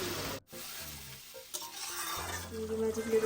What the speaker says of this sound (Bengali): এবার এর মধ্যে একটু জল মিশিয়ে দিলাম পরিমাণ মতো